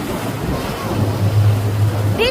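Surf rolling in at high tide with large, building waves, a steady broadband wash of water under gusty wind on the microphone, ending in a brief higher-pitched sound.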